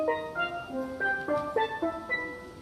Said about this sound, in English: The ones around the outside are a little bit lower, and they sound like this